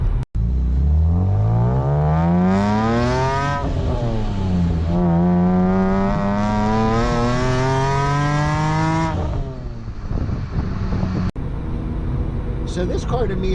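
A naturally aspirated BMW E46 M3 with a manual gearbox cruises in sixth gear, its engine note rising and falling smoothly as the throttle opens and eases. The engine is loud and close, heard from inside the cabin.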